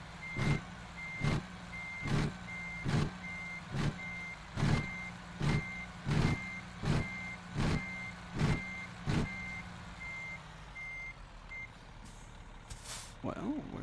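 A reversing truck emits loud, evenly spaced warning beeps, about a dozen in a steady rhythm over a low engine rumble, before the beeping stops and a short hiss follows near the end.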